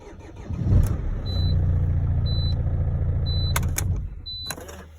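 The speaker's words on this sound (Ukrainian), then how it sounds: "Так само ключик клієнта стоїть що старий, теж запускає автомобіль." A Mercedes Vito 639 van is started with the customer's old key. The engine cranks and runs loudly for a few seconds, with clicks and a chime beeping at even intervals, recorded close.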